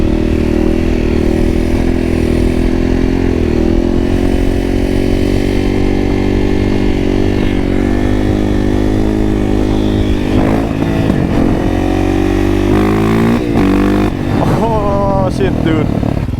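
Motorcycle ride on a warm summer day, the engine droning steadily and loud throughout with shifting pitch as the rider accelerates and slows, wind and road noise mixed in.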